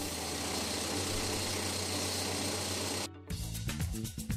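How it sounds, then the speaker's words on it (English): A belt sander grinds a fiberglass air intake scoop for a Formula 1000 race car, making a loud, steady abrasive whir that cuts off abruptly near the end and gives way to uneven rattling. "And we sand it smooth on the belt sander."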